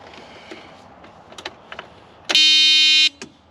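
A slipping fan belt on a Mercedes SK truck engine lets out a loud, steady high-pitched squeal lasting under a second, after a few faint clicks and knocks.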